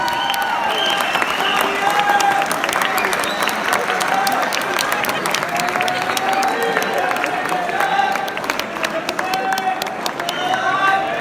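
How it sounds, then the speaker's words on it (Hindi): Sustained audience applause at an Urdu poetry mushaira, a dense steady clatter of many hands filling the whole stretch with crowd murmur beneath. "आपकी तालियां रुकनी नहीं चाहिए प्लीज।"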